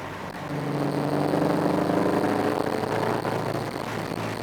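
A Subaru BRZ fitted with a new header, driving, gives off a steady, close engine drone that swells slightly after the first half-second and holds loud before easing near the end.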